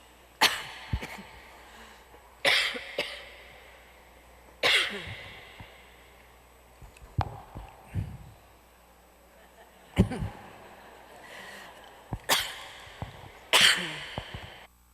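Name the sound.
speaker coughing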